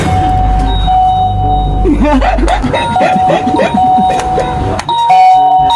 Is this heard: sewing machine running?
no